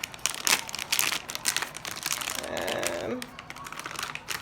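An Aera home diffuser cartridge's packaging is torn open by hand without scissors, giving loud crinkling and ripping in short bursts, close up.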